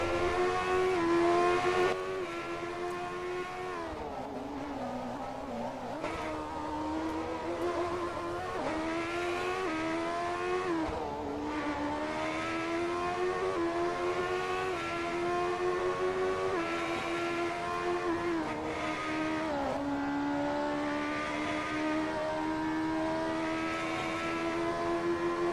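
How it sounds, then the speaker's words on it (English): Onboard engine note from a V8 Toro Rosso race car at the Belgian Grand Prix, a loud continuous high-pitched wail rising and falling with gear changes and throttle lifts, close and steady with no talk over it. "Just listen to that onboard. It is amazing. They brought back the V8s."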